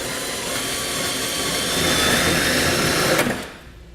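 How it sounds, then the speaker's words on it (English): A 2 1/4 inch hole saw cuts through a plastic front fascia on a 2018 vehicle, a steady loud whirring grind that holds for about three seconds and then winds down. "We're using a 2 1/4 inch hole saw to make this cut."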